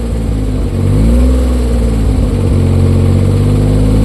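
A Suzuki Multicab's F6A engine runs loudly and close, its rumbling idle rising into revs and settling back, continuous throughout.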